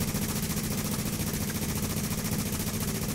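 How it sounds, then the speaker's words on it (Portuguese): Rapid, sustained automatic gunfire from the online co-op shooter The Division rattles in a steady, dense stream throughout, loud and unbroken, with no talk over it. "Voltou barulho de bala."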